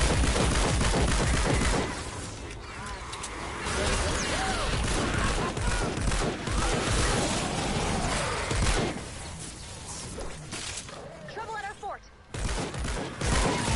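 Hydra weapon firing on an encampment in Fortnite Save the World, with dense rapid bursts of gunfire and impacts, loud and continuous, broken by brief pauses and quieter stretches.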